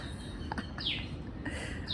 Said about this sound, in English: there's some beautiful birdsong, no? Maybe you can hear that.